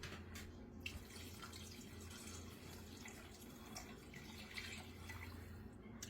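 Water from a tap running steadily into a cooking pot while making chicken and dumplings, a continuous faint splashing gush that holds even throughout, with no talk.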